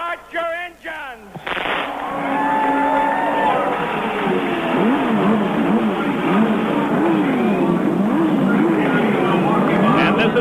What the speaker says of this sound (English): this is what it looks like as the engines start here at Milwaukee